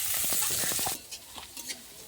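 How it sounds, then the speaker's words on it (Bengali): Chopped onions with dry red chilli and cumin fry in a pan: a loud, dense sizzle for about a second, then quieter scraping stirs and intermittent crackles. "এখানে পেঁয়াজটা ভালো করে ভাজা হয়ে গেছে"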